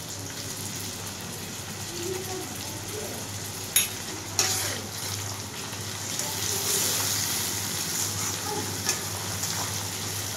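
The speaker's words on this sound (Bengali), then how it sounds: "ওই জন্য পেঁয়াজের সাথে আমি রসুনটা ভেজে নিই" Garlic paste and onions fry in a pan with a steady close sizzle, stirred with a few sharp knocks of the utensil against the pan.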